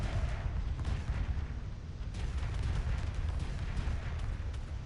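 Spaceship guns and missiles fire in the space strategy game Homeworld Remastered as a destroyer attacks resource collectors, giving a dense, continuous rumble of booming shots and blasts at steady loudness.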